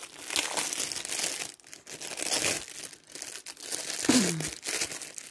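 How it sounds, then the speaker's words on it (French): Plastic packets of diamond painting diamonds crinkle and crunch close up, in a continuous rustling handling sound with brief pauses and bursts of louder crumpling, with no talking. "C'est vrai qu'à chaque fois, ça fait beaucoup de bruit avec les paquets"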